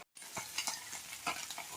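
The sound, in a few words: fish frying in a pan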